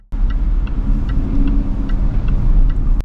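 A Jaguar XF sedan's engine rumbles low and steady as the car pulls away, with faint ticking over the continuous drone.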